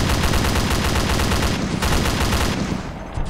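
Dense, continuous automatic gunfire aimed at a UAZ vehicle in the Arma 2 video game, loud and unbroken throughout, with rapid overlapping shots and no voices.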